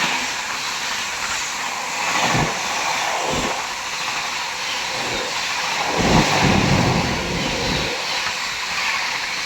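A train pulls away from Sasni station, a low steady rumble of wheels and engine with rhythmic surges and dips as carriages roll past, loud and close, with no talk.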